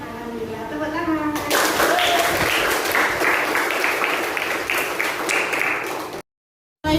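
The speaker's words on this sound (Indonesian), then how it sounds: "Alhamdulillah, tepuk tangan." A classroom group claps hands together in a dense, loud burst of applause lasting several seconds, with voices mixed in before it and a sudden cut to silence near the end.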